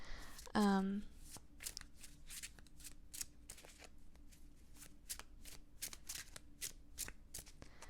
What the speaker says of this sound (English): noisier than some of my other decks when they shuffle